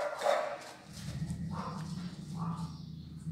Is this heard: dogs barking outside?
yes